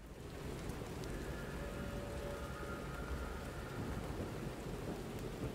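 Steady, dense rainfall on a rainy night in the video game Lies of P, with low thunder rumbling underneath throughout; the downpour stays continuous and fairly loud with no voices.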